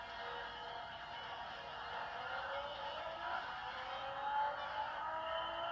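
Nissan GT-R Nismo racing lap in Gran Turismo 7 at Circuit de Santa Cruz, a steady engine drone with rising pitch as the car accelerates, continuous and moderately loud with no talking.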